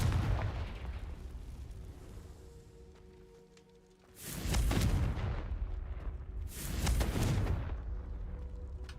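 Two booming blasts from the Confringo fire spell in Hogwarts Legacy, each a loud burst with a rumbling tail, spaced a couple of seconds apart over a low ambient hum, no talk.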